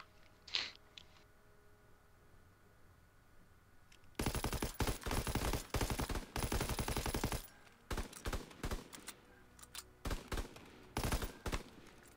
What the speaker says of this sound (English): So, here, we're going to do a shootout challenge.